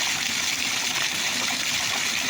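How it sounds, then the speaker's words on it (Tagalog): Water gushes hard and continuously from a burst water pipe, a loud, dense, unbroken rush with no pauses and no voices. "Lakas pa ng tubig, oh."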